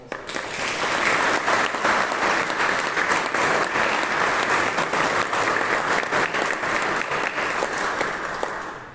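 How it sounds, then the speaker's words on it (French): A church congregation applauds steadily, dense even clapping from many hands that stays loud and unbroken for the whole stretch, with no speech over it. "j'aimerais, pour les remercier, que nous puissions les applaudir ensemble"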